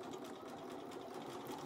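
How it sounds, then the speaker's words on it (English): A sewing machine stitches quilt pieces with a fast, steady mechanical whir and rapid needle ticking, faint and continuous over the short span. "as I'm sewing"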